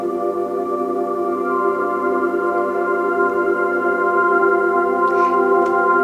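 A steady, sustained 528 hertz electronic tone with layered harmonics hums evenly throughout, with a couple of faint brief high blips near the end.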